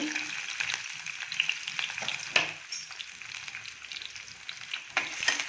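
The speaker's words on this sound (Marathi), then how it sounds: "व्यवस्थित परतून घ्यायचं आहे आपल्याला आपला कांदा खूप शिजवायचा नाहीये" Onions, chillies and crushed ginger and garlic fry in hot oil in a pan, a steady crackling sizzle punctuated by sharp pops and occasional stirring scrapes, close and fairly quiet, with no voices.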